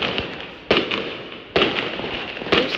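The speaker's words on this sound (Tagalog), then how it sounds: "Natatawa naman ako sa mga fireworks na to" Fireworks burst on the last day of Chinese New Year, three sharp loud explosions spaced about a second apart over a steady crackling, hissing backdrop of distant firecrackers.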